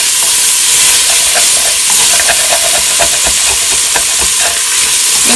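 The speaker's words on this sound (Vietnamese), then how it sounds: "Mình xào cho nó thơm, nó săn miếng thịt lại" Pork belly stir-fries in a hot pan for a simple bún mắm broth, giving a loud, steady sizzle and hiss close up with scattered crackles and pops throughout.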